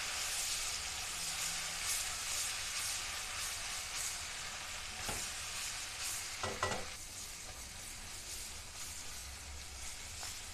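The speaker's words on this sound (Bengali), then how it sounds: "আবার নাড়াচাড়া করে নিতে হবে।" Onions frying with ginger-garlic paste while being stirred in a pan for a fish and taro potato dish: a steady close sizzle with a few scraping stir strokes around the middle, no talking.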